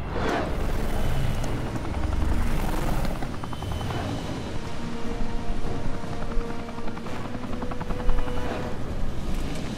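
A helicopter in the video game Gears of War drones steadily with a loud, continuous rotor thrum and engine whine throughout, with no talk over it.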